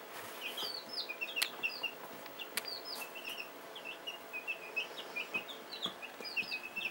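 Small chicks peep and chickens cluck softly in scattered bursts, with occasional sharp knocks and rustles nearby.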